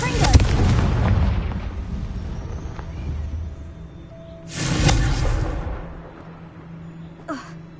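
Confringo explosion spells fire in the Hogwarts Legacy video game: a loud burst with a long rumbling decay, then a second sharp blast midway and a brief faint crackle near the end.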